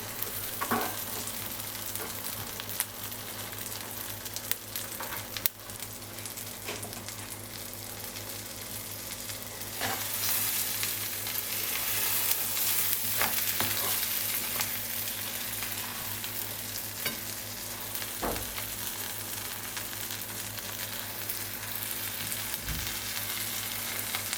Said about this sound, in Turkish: Bu esnada 1-2 dakika pişirin ki içindeki sucuk, domatesler, biberler biraz pişsin